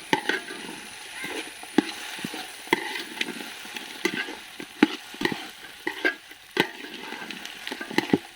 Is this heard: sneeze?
no